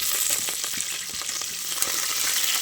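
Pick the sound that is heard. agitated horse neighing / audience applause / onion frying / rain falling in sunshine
onion frying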